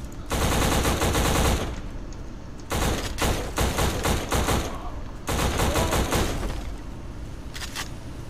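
Loud bursts of video-game machine gun fire rattle in rapid sustained volleys, with short pauses between long strings of shots and a few scattered single rounds toward the end.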